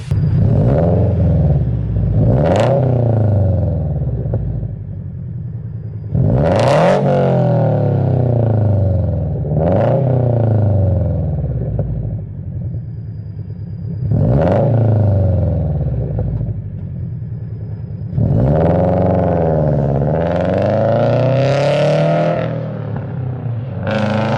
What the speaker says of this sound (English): putting a GoPro on top of my exhaust, showing you how it sounds